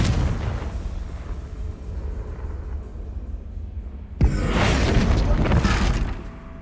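A Confringo fire spell blast erupts in Hogwarts Legacy, a sudden loud burst with crackling roar that breaks over a low rumbling backdrop and holds for about two seconds before easing off.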